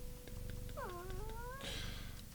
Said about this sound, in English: Is that his kitten? No, that's my kitten. I can pet it.